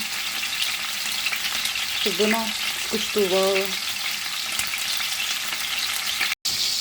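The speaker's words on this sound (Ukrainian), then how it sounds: "Зараз смажу з двох сторон" Steady, close sizzling of pork ribs frying in a hot pan, with a voice speaking briefly partway through.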